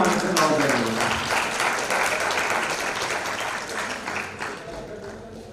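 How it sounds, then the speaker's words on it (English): Sustained round of applause from a conference audience at a textiles conference shield presentation, steady dense clapping lasting several seconds and slowly tapering, with some voices mixed in beneath. "Give me a round of applause, everyone"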